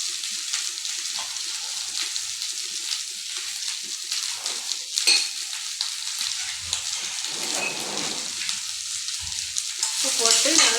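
Vegetables frying in a pan for a Tamil home-style family lunch, with a steady close sizzle and scraping stirs, a brief louder clatter midway and a rising hiss near the end; no talking.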